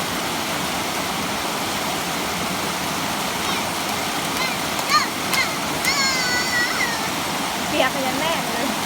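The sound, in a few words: Huai Yang waterfall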